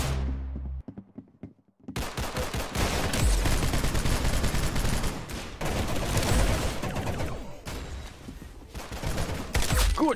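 Rapid gunfire in the Roblox shooter Arsenal on the Matrix map, dense bursts of sharp shots crackling almost continuously after a brief quiet start, loud and close with short gaps between volleys.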